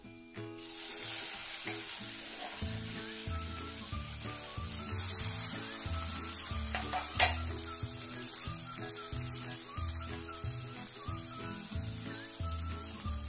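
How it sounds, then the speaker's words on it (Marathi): Poha chakli deep-frying in hot oil over a medium flame for Diwali snacks, a soft continuous bubbling sizzle heard alone beneath steady background music. "आता आपण यामध्ये चकल्या सोडून घेऊया. आणि चकली तळत असताना मैत्रिणींनो अजिबात गॅस कमी जास्त करायचा नाही"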